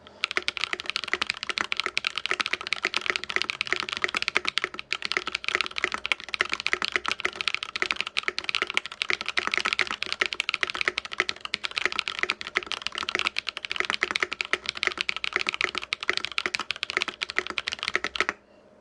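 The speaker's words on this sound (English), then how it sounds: "This is me trying to type fast." Rapid, continuous typing on a Space 65 Cybervoyager mechanical keyboard fitted with Holy Panda switches, dense clacking keystrokes close up for nearly twenty seconds without pause, heard alone.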